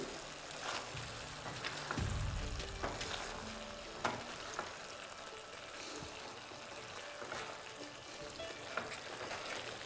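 Cauliflower cooking under a lid in a pan, a steady soft sizzle and bubbling with occasional faint clinks, low and continuous.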